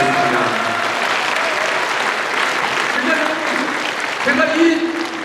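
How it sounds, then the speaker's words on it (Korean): Audience applauding at a Nonsan city mayor's 2024 town-hall meeting with citizens, a steady broad wash of many hands clapping for several seconds, with a voice briefly heard over it. "박수 부탁드리겠습니다."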